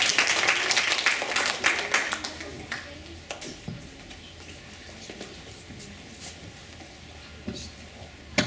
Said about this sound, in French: On peut les applaudir, les encourager.